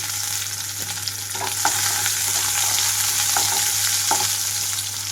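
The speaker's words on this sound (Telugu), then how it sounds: "మొత్తం తాలింపు అంతా వేగేటప్పుడే ఉల్లిపాయలు పచ్చిమిరపకాయలు వేస్తున్నాను" Onions and green chillies fry in hot oil in a tempering for spicy Nellore-style rasam, giving a steady close sizzle with a low hum and occasional light stirring clicks.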